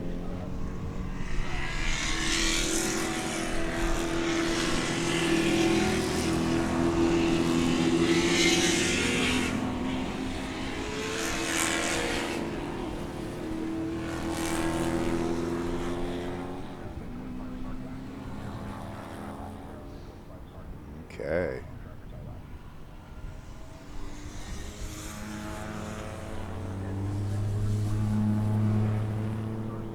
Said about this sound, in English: you can see the cars making their way out onto the banking